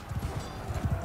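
Horse hooves clip-clop in the medieval combat game Mount & Blade II: Bannerlord, a quick, rhythmic run of muffled thudding footfalls close by, continuous across the short moment over a dense battle background.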